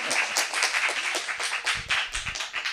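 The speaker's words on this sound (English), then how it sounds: "Claps for him too" An audience claps for a speaker being introduced: a moderate crowd's applause, close and lively, with a few individual claps standing out from the steady patter.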